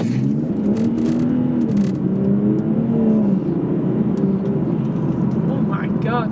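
A BMW 440i M Sport in comfort mode pulls away hard from a standstill, its engine note climbing steadily and loudly in pitch as it accelerates.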